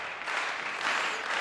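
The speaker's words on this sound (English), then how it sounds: "the crowd enjoying it, applauding the players as they make their way back to the table" A table tennis crowd at a men's singles final applauds the players, a dense, continuous patter of clapping sustained evenly throughout.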